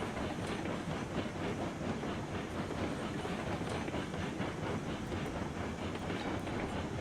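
Locomotive rolling along in RailRoads Online on the Mesa Plains map, a steady close rumble with rhythmic clickety-clack of wheels over rail joints, continuous and even throughout with no voices.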